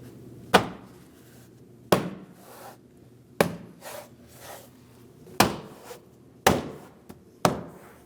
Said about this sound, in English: now you can push in where the push pins are and pop it back onto the door